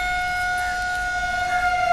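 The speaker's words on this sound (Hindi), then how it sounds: "5 किलोमीटर तक ये सायरन सुना जाता है।" A steady civil-defense warning siren sounding over a flood-flow area in Rajasthan, held as a loud continuous tone with stable pitch throughout and no voices.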